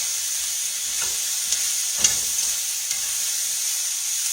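Squash and red peppers sizzle steadily in a stir-fry skillet with oil, a constant bright frying hiss broken by a few soft stirring scrapes, close and alone without talk.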